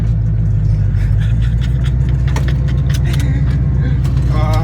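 A carbureted 1967 Plymouth Valiant engine runs at a steady, loud idle with a deep, constant rumble, while a person talks over it.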